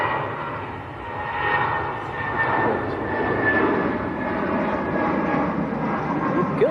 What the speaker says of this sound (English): BA just getting airborne in the background.